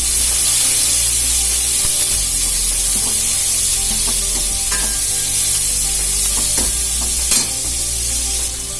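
Onions fry loudly in hot oil for sambar, a dense, steady sizzle with occasional stirring knocks close up and no talking.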